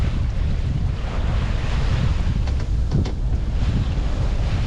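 Ocean swell and small wind waves wash around a sailboat off the southern shore of Great Cranberry Island, a steady loud rush of water and wind buffeting throughout with no talking.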